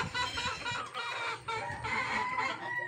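Young pigeons in a loft, a dense, continuous chorus of bird calls and rustling filling the whole stretch at moderate, steady loudness.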